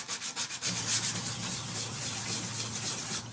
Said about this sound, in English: just smoothing the interior of this circle using some superfine steel wool